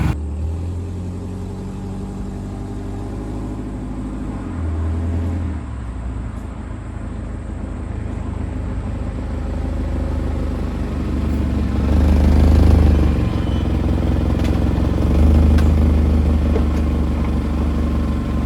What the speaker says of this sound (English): we are going to take it for a test drive